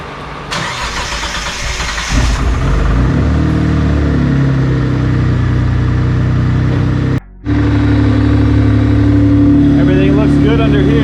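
A Mitsubishi 3000GT engine, freshly reassembled after a serpentine belt conversion, cranks loudly and catches, then settles into a steady, close idle with a brief cut partway through.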